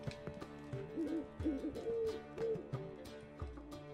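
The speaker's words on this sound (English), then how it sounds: "Ooh, an owl." A soft owl hoot in The Witcher 3 video game, several faint cooing tones over a quiet musical background, fairly low in level and close.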